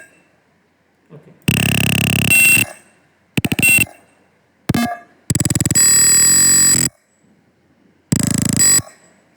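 A buzzer on an Arduino ultrasonic piano circuit sounds in loud, sharp electronic tone bursts of varying pitch and length, separated by silent gaps, with faint background noise between beeps.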